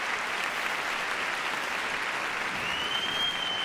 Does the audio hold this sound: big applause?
yes